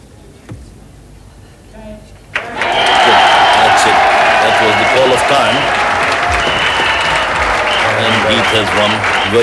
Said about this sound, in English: being congratulated by the crowd, the chief referee, the scorers